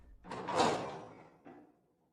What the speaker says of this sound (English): Suddenly there is a knock at the door. A servant opens it